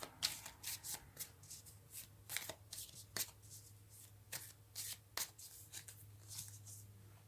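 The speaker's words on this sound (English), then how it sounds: "let's get one more card" Tarot cards are shuffled and drawn close by, with repeated soft riffling bursts and light slaps in an irregular rhythm, quiet throughout.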